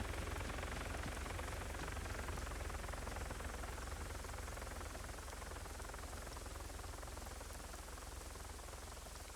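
A steady helicopter drone in a video game, the GM helicopter, heard as a continuous broadband rotor roar with a rain-like hiss, unchanging and fairly loud, with no voices.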